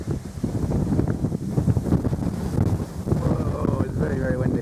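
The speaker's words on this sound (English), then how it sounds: "oh, it's very, very windy." Strong wind buffets the microphone with heavy, gusting rumble, and a voice speaks faintly underneath toward the end.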